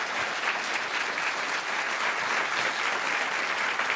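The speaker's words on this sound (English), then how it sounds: "May we have a round of applause for this icon, Jacques Pépin." Audience at an indoor evening event applauds a renowned chef, a dense, continuous clapping that stays loud and even throughout, with no voices over it.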